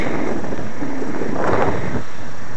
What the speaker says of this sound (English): Yeah, it just got really windy.